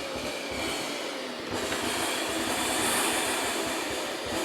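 An AEG Ultraone AU08870 vacuum cleaner runs continuously with a loud, broad whooshing roar and a low rumbling undertone, steady throughout.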